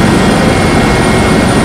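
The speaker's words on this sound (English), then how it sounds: "we are in the helicopter" A helicopter in flight, heard from inside the cabin, fills the whole stretch with a loud, steady, dense roar of engine and rotor noise that never lets up.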